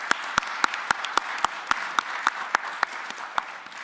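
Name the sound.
audience applause at a county commissioners meeting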